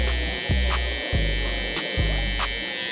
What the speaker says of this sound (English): So now we'll come in with our trimmer and we're gonna bald out right below.